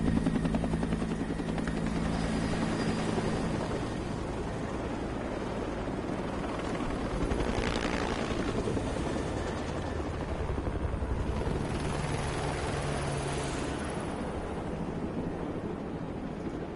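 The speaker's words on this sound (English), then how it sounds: "It's kind of unique that you start out in the helicopter" A helicopter heard on a video game character creation screen gives a continuous low rotor drone with steady whooshing, moderately loud and unbroken throughout, with no talking.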